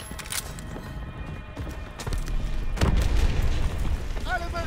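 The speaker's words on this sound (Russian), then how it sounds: "Полетела граната!" A grenade explosion in the Call of Duty: WWII video game booms and rumbles through a loud, noisy battlefield mix, with a short voice cry near the end.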